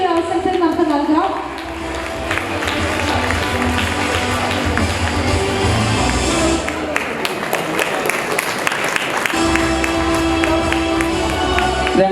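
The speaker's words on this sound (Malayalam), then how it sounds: "അപ്പൊ നമുക്ക് നല്ലൊരു കൈയടി ഒരു അവസരത്തിൽ നമുക്ക് നൽകാം" An audience at an evening award ceremony claps in a sustained burst of applause, with a voice speaking over the crowd through a PA for much of it.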